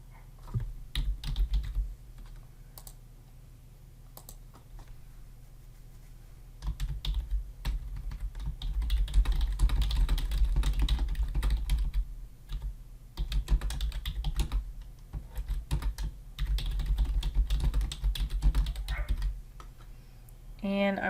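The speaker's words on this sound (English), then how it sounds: "I'm just going to type in" Someone types on a computer keyboard while entering a search, a near, quiet patter of key clicks in uneven bursts with short pauses across the stretch.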